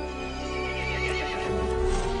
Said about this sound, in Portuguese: O cavalo ficou irritado e chamou os outros monstros.